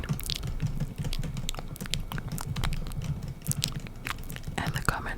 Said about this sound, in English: I just started typing for no reason.